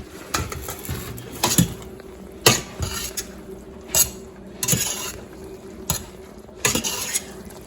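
A spoon stirring shrimp marinara in a metal pot gives repeated scraping clanks against the sides in an uneven rhythm, close and fairly crisp, with a faint simmer underneath and no talking.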